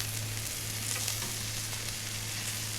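Wagyu and Prime steaks searing on a grill at the beach, giving a steady close sizzle with a constant hiss and a low hum underneath, with no voices.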